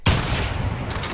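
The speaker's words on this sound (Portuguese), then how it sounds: "eu dei três tiros nela" A gun fires in the dinosaur hunting video game The Hunter Primal, a sharp, loud boom with a long rolling tail of echo and a fainter crack near the end.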